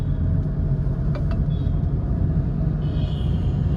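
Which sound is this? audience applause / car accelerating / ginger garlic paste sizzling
car accelerating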